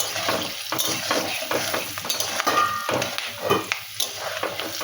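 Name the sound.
whole spices, dried chili, bay leaf sizzling in hot oil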